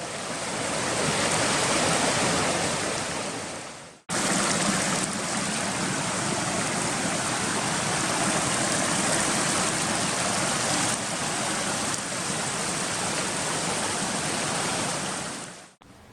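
Steady rushing water of a flowing mountain river in Rocky Mountain National Park, loud and continuous, with a brief break before the torrent resumes unchanged.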